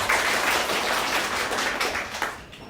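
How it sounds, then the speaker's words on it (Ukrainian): Audience at a Ukrainian comedy improv show applauds steadily, a dense wash of clapping that holds for a few seconds and then thins out. "Аплодуйте Олександру"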